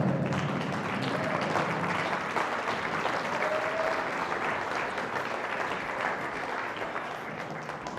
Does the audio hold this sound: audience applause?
yes